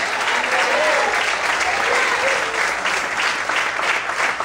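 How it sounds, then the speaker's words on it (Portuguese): Dense, sustained applause from a church congregation fills the space steadily, loud and continuous throughout. "Você pode aplaudir o Senhor?"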